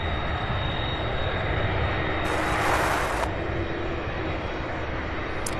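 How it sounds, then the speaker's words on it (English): An Airbus A300 jet airliner landing at Louisville's SDF airport, a steady loud engine roar throughout with a brief burst of brighter hiss midway, no voices. "Well, this A300 comes in for a landing."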